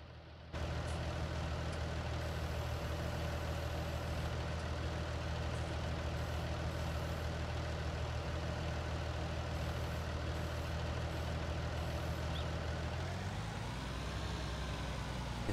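A tractor engine in the farming video game Farming Simulator 19, a continuous heavy droning rumble that holds steady for most of the stretch and then shifts pitch near the end, with no speech.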